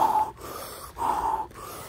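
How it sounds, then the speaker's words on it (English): After eating an extremely hot chip in a one chip challenge, a person takes heavy, deep breaths close up, rhythmic, loud inhales and exhales separated by brief pauses, with no talk. "Deep breathing is how you deal with it."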